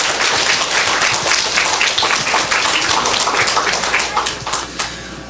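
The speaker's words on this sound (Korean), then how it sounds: "다시 한번 우리 아동부 친구들에게 힘찬 격려의 박수 부탁드리겠습니다" A church congregation at a praise service claps together in a loud, dense burst of applause that carries for several seconds before thinning out toward the end.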